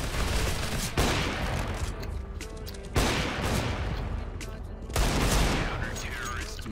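Heavy gunfire bursts out in a video game match, three loud sustained volleys roughly two seconds apart, each decaying into rattling echoes, with faint voices mixed underneath.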